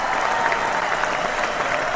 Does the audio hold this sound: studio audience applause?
yes